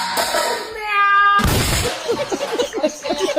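A cat meows several times in quick succession in traffic, high wavering calls near the mic, then a loud burst and a run of short scuffing or clattering sounds follow.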